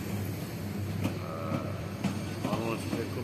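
A long Paryatak Express passenger train enters Chattogram station with a continuous heavy rolling rumble and faint metallic squeals and clanks from the passing carriages, while people speak softly nearby.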